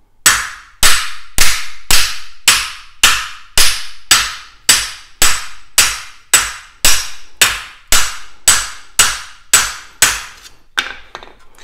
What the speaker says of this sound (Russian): Вот таким образом производится отбивка.